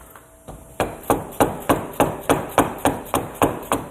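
A hammer knocks on the front wheel axle of a Yamaha Big Bear 350 ATV, about ten sharp metallic blows in an even, steady rhythm, close and loud, with no talking.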